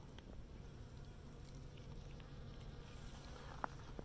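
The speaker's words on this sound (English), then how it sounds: "You can hear it's full of bees." A steady insect buzz of many bees hums continuously over ground-cover plants in a botanical garden, with soft outdoor ambience and a single brief click near the end.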